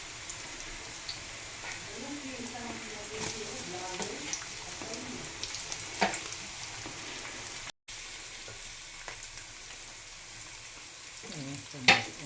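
Onions fry in a pan for egg noodles with sardines, giving a steady soft sizzle with occasional stirring clicks, while a person talks quietly over it.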